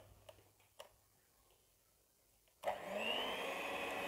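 After a few faint clicks and taps, an electric hand mixer switches on and whirs steadily at low speed while mixing nastar cheese cookie dough, close and continuous to the end.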